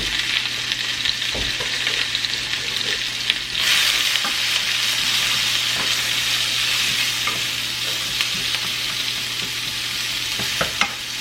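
Onions and peppers seasoned with garlic powder and salt sauté in a pan, a loud, even sizzle that swells after a few seconds, with occasional light stirring clicks and no voices.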